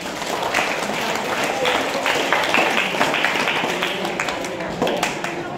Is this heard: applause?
yes